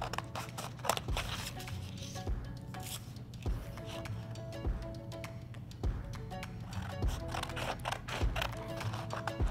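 Scissors snipping through paper in repeated short cuts, a steady run of crisp close-up clicks and slices with a low hum underneath and no talking.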